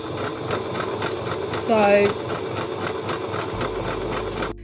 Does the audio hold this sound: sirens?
no